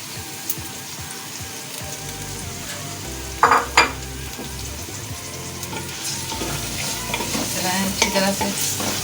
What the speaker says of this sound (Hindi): चलाएं अच्छी तरह से।